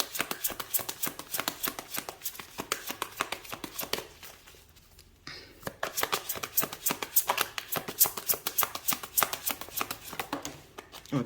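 Tarot cards shuffled over and over in quick riffling bursts, close and crisp, with a short pause midway before the rapid card handling starts again.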